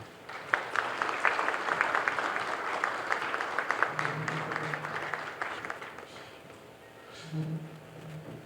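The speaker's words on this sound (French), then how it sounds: "Monsieur Rendel Théodore, encore vos applaudissements, s'il vous plaît." Audience applause at a French law award ceremony, with a crowd clapping steadily with sharp individual claps before the clapping thins out, while a low voice murmurs near the end.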